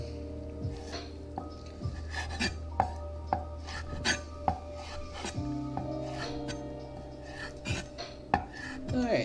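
A knife chops bacon on a board for a cast-iron deep dish pizza, giving an irregular series of close, sharp taps and scrapes with faint clinks of kitchenware.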